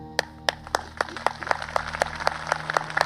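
A church congregation claps for Jesus in a steady rhythm of sharp, fairly faint claps, first spaced apart and then closer together, heard alone without talk.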